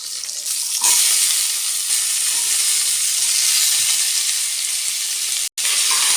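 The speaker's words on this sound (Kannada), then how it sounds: "ಇವಾಗ ನುಗ್ಗೆಕಾಯಿ ಹಾಕೋಣ, ತೊಳೆದಿಟ್ಕೊಂಡಿರೋ ನುಗ್ಗೆಕಾಯಿ." Washed drumsticks dropped into hot oil with cumin, curry leaves and onion, setting off a loud, continuous close-up sizzle and hiss with a brief stir-clatter and no voices.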